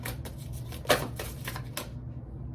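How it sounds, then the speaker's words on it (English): A deck of oracle cards being shuffled, with soft riffling and flicking and a sharper snap near the middle, close but fairly quiet over a low background hum, then fading to near silence. "I'm going to pull an oracle card"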